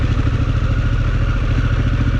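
Loud, close adventure motorcycle engine chugging and clattering steadily while riding and shifting gears off-road at Holey Land, with a rhythmic low throb throughout.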